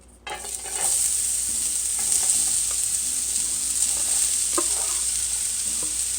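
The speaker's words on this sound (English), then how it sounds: "And now I'm going to saute while stirring for about 4 minutes." Chopped onions and other vegetables for ground beef fried rice sauté in hot oil in a pan, a steady loud sizzle with occasional scraping clicks from stirring, close and continuous with no talking.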